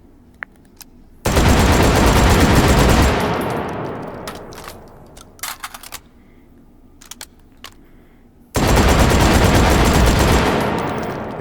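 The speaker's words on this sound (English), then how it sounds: "This is my custom Scalpel LE shotgun, and we're gonna see what we can do now." Loud shotgun blasts from a custom Scalpel LE shotgun in the VR game Hot Dogs, Horseshoes and Hand Grenades: two booming shots with long decaying tails, separated by a few sharp clicks and clacks of handling.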